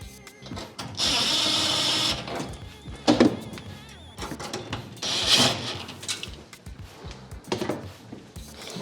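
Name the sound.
screws being driven back in to hold the range display board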